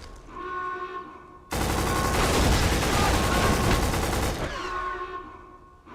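Loud, sustained automatic gunfire from the video game Pitfall, a dense continuous burst of rapid shots lasting about three seconds, set against quieter background game music before and after.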